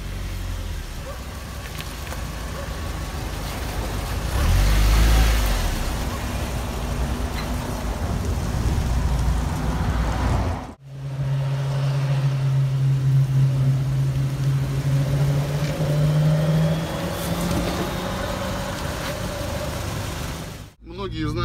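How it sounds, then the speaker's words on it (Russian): A Suzuki Grand Vitara 2.4 engine rumbles and revs as the SUV climbs onto a curb in a city test, a loud close drone with a rising engine tone, while a person talks over it. "сейчас посмотрим, как эта машина заезжает на тот же бордюр"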